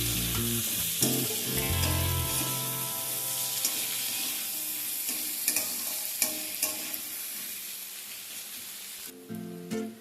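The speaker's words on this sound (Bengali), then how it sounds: "আলু আর পেঁয়াজটাকে একসাথে খানিক্ষণ ভেজে নেবো" Potatoes and onions fry together in a pan, a steady close sizzle with stirring scrapes and occasional clinks of the utensil against the pan throughout, with no one talking.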